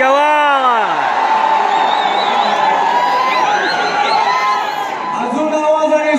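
A large crowd at a Dahi Handi Govinda final-round event cheers, whoops and shouts loudly and continuously, with voices rising and falling in a dense roar close by.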